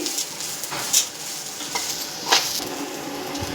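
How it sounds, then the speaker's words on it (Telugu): Rice fries in a pan for a spicy hotel-style pulao while being stirred slowly, a steady close sizzle broken by two sharp metallic scrapes of the spoon against the pan. "కొంచెం నెమ్మదిగా అలా కలుపుకుంటూ ఫ్రై అవనివ్వాలి"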